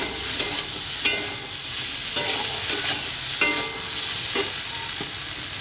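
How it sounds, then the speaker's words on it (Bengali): Soybean chunks being stirred and fried in a pan for a Bengali dish: a steady sizzle with periodic scraping clicks of the spoon, close and alone, with no talking. "সয়াবিনগুলো দেওয়ার পর আবার ভালো করে কষিয়ে নেব বা মিশিয়ে নেব"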